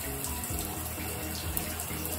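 Water running steadily from a tap during a child's hair wash at home, a soft continuous splashing stream heard close and fairly quiet, with no talking.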